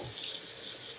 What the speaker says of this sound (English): Let's head over to the sink and give them a rinse.